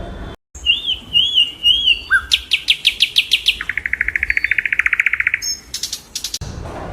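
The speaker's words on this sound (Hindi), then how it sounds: "तो देखते हैं कौन सा पक्षी है ये जो ऐसे आवाज निकाल रहा है। तो ये है बुलबुल।" Close, clear bulbul song: looping whistled notes give way to quick repeated chirps and a long rapid trill, with no voices over it.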